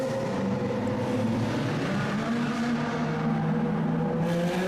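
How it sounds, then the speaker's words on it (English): Loud supercars, among them a Lamborghini Aventador, drive through the Monaco tunnels in a steady, dense engine roar that fills the whole stretch without a break, with no voices. "Epic convoy through the Monaco tunnels with some insanely loud supercars."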